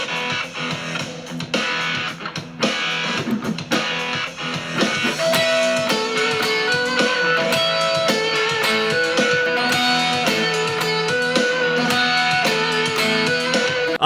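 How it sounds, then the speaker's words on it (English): A gritty, overdriven Les Paul electric guitar on humbucker pickups plays a lead riff over a full, loud band backing with drums, notes stepping along steadily. "I've got that really nice gritty tone coming again from the humbuckers in the Les Paul"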